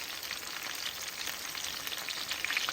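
Chicken breast for fajitas fries in a pan with a steady, close, moderately loud sizzle and crackle throughout, no voices.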